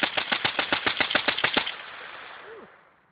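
Rapid gunfire at a shooting range, about a dozen sharp shots in quick succession over roughly a second and a half, loud and close, then a fading ring of echo and silence.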